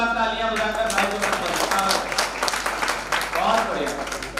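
Audience at a kavi sammelan poetry gathering in Bareilly claps steadily for a reciting poet, a dense broad wash of applause lasting throughout, with voices and chatter mixed in under it.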